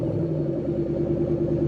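Low, steady engine idle from a 2013 Ford Mustang Shelby GT500 in the Driving Empire racing game, a continuous rumbling drone that holds at an even level with no voices over it.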